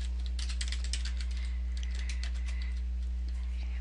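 Rapid clicks of typing on a computer keyboard come in quick bursts over a steady low electrical hum, close and fairly quiet.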